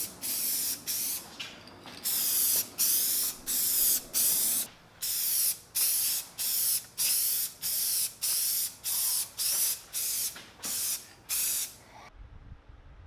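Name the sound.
spray painting DIY corner shelves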